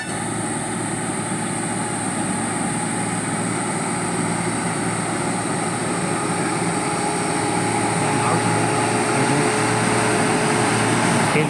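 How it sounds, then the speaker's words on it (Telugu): A diesel lorry labours slowly up the incline toward an old railway bridge in Nandyal, its engine drone steady and loud throughout with a broad rumbling roar that builds slightly toward the end. "చూడండి, వస్తున్నది లారీ ఎక్కలేక ఎంత నిదానంగా నడుస్తున్నారు."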